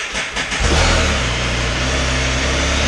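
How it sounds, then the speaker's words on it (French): A Can-Am Spyder RT three-wheel motorcycle engine cranks and starts, then settles into a steady, loud low rumble of idling close by. "c'est démarrer le moteur."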